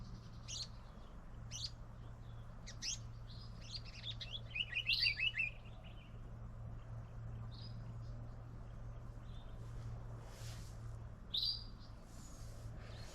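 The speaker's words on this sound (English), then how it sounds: "It's always nice to hear the birds close by." Several birds chirp and tweet close by in short bursts, with a quick trill in the middle and a lone call near the end, over a steady low hum and no talking.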